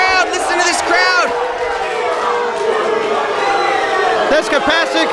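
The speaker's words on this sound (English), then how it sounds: "Listen to this crowd. Listen to this crowd." A packed wrestling crowd in a Knights of Columbus Hall roars, whoops and yells continuously at close range, with excited voices rising and falling throughout as a commentator talks over the noise.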